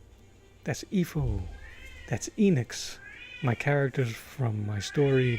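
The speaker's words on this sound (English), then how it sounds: "That is my cat, Broadway, singing us off." A pet cat named Broadway meows in a series of drawn-out, rising-and-falling calls, close and fairly loud, with a person talking between and over the meows.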